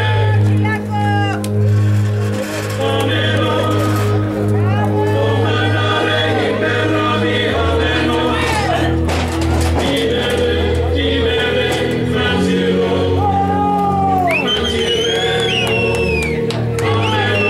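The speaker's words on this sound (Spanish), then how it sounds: "Y aplauden con madre." Wrestling event crowd in Mexico applauding and cheering for Místico Negro's entrance, loud and continuous with shouts and whoops over a steady low musical drone.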